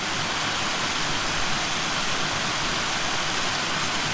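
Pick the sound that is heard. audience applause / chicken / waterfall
waterfall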